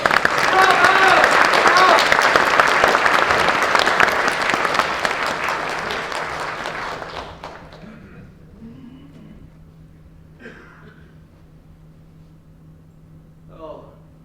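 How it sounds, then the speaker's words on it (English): Audience applause at a comedy performance of Hamlet, a dense, loud burst of many clapping hands that fades out after several seconds into a quiet room with faint murmurs and a soft voice. "Give them another round of applause"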